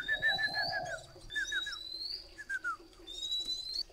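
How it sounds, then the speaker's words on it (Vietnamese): A caged oriental magpie-robin whistles clear, sweet rising and falling phrases in several short bursts, close by, with faint background chatter of other birds. "Các bác nghe cái con chim chòe than nó huýt sáo."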